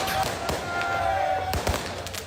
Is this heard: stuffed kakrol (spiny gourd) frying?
no